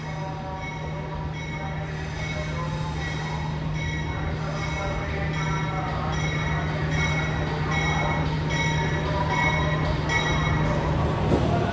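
A KA Madiun executive New Generation train with stainless steel cars rolls steadily through Solo Balapan station, a continuous hum and rumble with light wheel noise and faint squeals, no voices.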